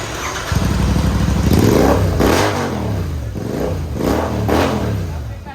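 A Royal Enfield GT650 motorcycle fitted with a Red Rooster silencer and BMC air filter revs loudly and close by, rising and falling in several sharp throttle blips over a steady idle.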